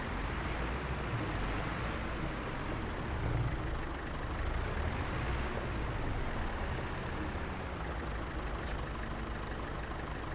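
Steady, dense drone of a tractor engine pulling a heavy load across a field in Farming Simulator 25, a constant mid-low rumble with slight swells that persists unbroken throughout.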